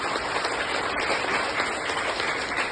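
A crowd gives loud, continuous applause for a company's products at an AWPL gathering, thick and even clapping from many people that carries on without a break.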